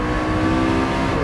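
A McLaren 650S supercar engine hums loud and close in a brief, steady burst as the car brakes into a turn on track.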